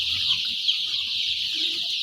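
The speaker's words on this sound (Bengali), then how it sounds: "মুরগিগুলো খুব সুস্থ আছে" A dense flock of six-day-old chickens on a poultry farm of about 14,000 birds vaccinated against Ranikhet disease keeps up a constant, overlapping chorus of clucks and peeps, close and moderately loud.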